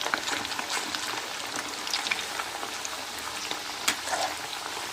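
Potato french fries sizzle steadily in hot oil while being gently turned, a dense, continuous crackling with occasional louder pops and spatters close by.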